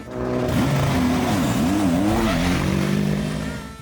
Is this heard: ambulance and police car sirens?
no